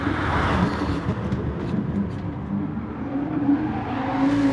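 Viper race car engine in a multi-class racing video game at Sardegna, a steady loud drone with slight revving swells throughout, no talk over it.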